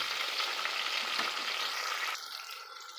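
Onions, green chillies and tomato pieces fry in a pan of hot oil, a dense, close sizzle that stays loud and then drops to a softer crackle partway through.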